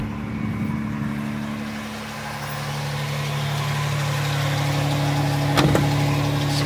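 A 2003 Hyundai Santa Fe with a 2.7 liter V6 and all-wheel drive, 168,348 miles on it, runs at a steady idle: a continuous low engine hum with a faint brief knock near the end, no talk.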